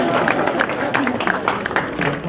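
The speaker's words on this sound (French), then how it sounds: "Applaudissez pour lui, il est mignon." Audience clapping steadily through a French-language storytelling performance, a dense continuous patter of many hands close by with no speech over it.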